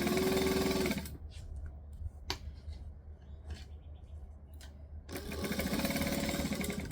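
Sewing machine stitching a continuous spiral into wrap pants with a shirred waist, a steady, loud, rapid whirr that runs for about a second, stops for a quiet pause, then starts up again.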